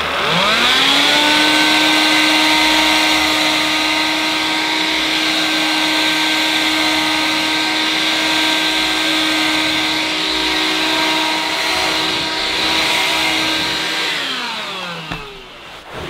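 An AEG CX7 2-in-1 cordless handheld vacuum sucks up black sand, its motor holding a loud, steady whine with sharp tonal harmonics for about fourteen seconds before spinning down at the end, with no talking.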